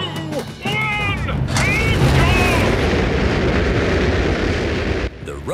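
Cartoon rocket roaring as it launches and flies home, a loud sustained rumbling whoosh lasting several seconds, with brief voices and squeaky cartoon calls at the start.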